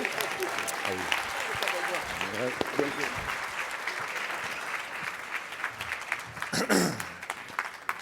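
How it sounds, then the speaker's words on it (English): Audience at the DeKalb County small business summit gives a keynote speaker a steady, dense round of applause that continues evenly for several seconds, with scattered voices and cheers mixed in. "Let's welcome with a large clap Mr. Jay Bailey to the stage"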